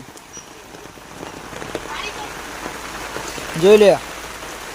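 Heavy rain in a thunderstorm, with water starting to flow, makes a steady hiss of downpour throughout. A voice speaks briefly near the end over the rain.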